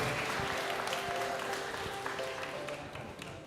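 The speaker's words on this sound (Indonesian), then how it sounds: "Tepuk tangan yang meriah buat Bapak Ridwan Kamil" An audience at a Christmas Eve church service in Bandung claps together in a steady wash of applause, fairly faint and even throughout, with no clear voices.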